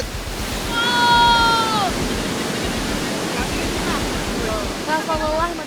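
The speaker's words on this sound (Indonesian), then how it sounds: "gue sampai di tujuan di air terjun Timbulun" Timbulun waterfall gives a continuous loud rushing roar close by, while a voice briefly exclaims over the falling water and a few thin tonal sounds rise above it.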